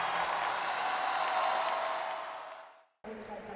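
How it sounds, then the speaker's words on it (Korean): Standing ovation from a concert audience after an encore: dense, sustained clapping and cheering that swells, then fades out toward the end before a brief cut to other sound. "기립박수와 환호가 쏟아졌다"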